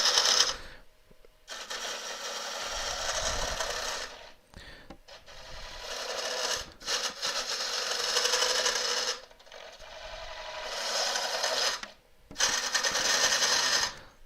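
A turning tool chatters against an elm burr spinning on a wood lathe, far out over the tool rest. Long, loud, buzzing rasps run in bursts with short breaks between them, and no voice is heard.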